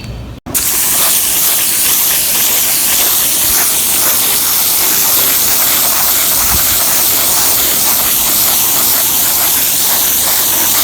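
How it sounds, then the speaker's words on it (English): A steady, loud hiss of a water spray rinsing bleach off asphalt roof shingles runs continuously and evenly throughout, with no voices. "Removing the bleach now, giving me a spray down."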